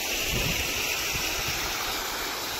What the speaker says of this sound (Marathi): पाणी प्रेशर खूप जोरात आहे मित्रांनो